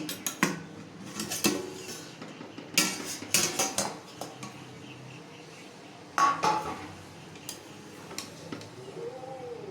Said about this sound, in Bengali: তারপর আমি ঢাকনাটা খুলব পনেরো মিনিট হয়ে গেছে আমি খুলে দেখাচ্ছি